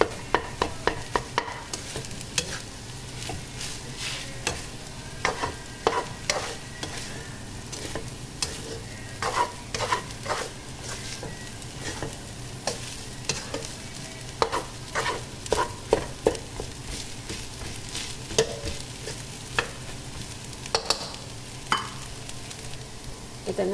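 Chao fan fried rice sizzles steadily in a hot pan while a utensil stirs and scrapes it, with irregular clacks and scrapes throughout.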